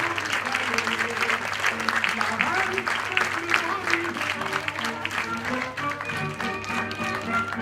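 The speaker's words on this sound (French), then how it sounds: "Allez, on applaudit bien fort Jean." A theatre audience claps as a performer is welcomed onto the stage, dense applause continuing throughout with some voices faintly under it.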